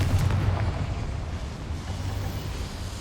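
A Confringo fire spell blasts inside a small mine in Hogwarts Legacy, a loud, continuous rumbling explosion with heavy low boom that stays dense and roaring throughout.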